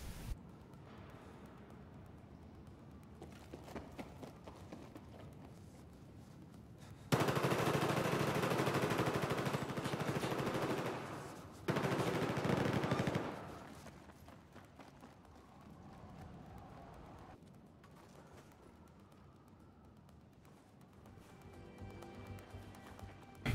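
Rapid automatic hip-fire gunfire in a video game, a loud sustained burst of several seconds, a brief break, then another short burst, with quieter game ambience around it.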